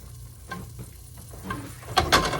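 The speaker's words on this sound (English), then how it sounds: "Let's add butter in this pan" Butter sizzling in a frying pan at close range, a soft steady crackle with a few light taps before a brighter burst of frying near the end.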